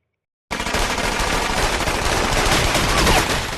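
Heavy gunfire sound effect from a Breaking Bad episode, a loud sustained burst of rapid shots over a black screen that cuts in abruptly out of silence and keeps going to the end.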